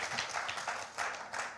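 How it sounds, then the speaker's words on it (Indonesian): A church congregation claps in praise of God, a short burst of scattered, fairly soft applause with uneven pulses heard from a distance. "Tepuk tangan yang meriah bagi Tuhan kita."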